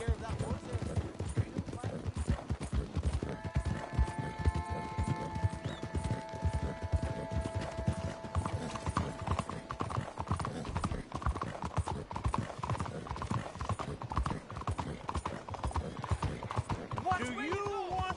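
Horse hooves clip-clop steadily in Red Dead Redemption II, a continuous rhythmic trotting with game ambience and a brief tonal hum mid-clip, heard alone without talk.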